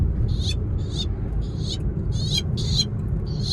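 A man mimics a frog crying out while caught in a snake's mouth, making a rapid series of short, strained, croaking squeaks in uneven bursts, close and fairly loud over a low rumble.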